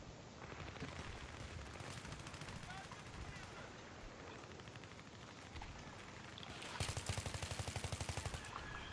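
Gunfire in the video game Battlefield 3 on the Canals map in team deathmatch, rapid automatic bursts and shots over a constant noisy background, with a fast rattling burst near the end and voices talking throughout.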